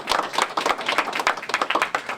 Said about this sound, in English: Thank you for giving one more round of applause.